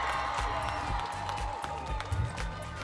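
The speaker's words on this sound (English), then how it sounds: "let's all give our warm round of applause for UAP Makati's own, Architect Daniel Vicente A. Lichauco, UAP" An online architects' gathering greets a speaker with a round of applause, a fairly faint, steady patter of clapping with some crowd murmur and faint cheering mixed in, carrying on without a break.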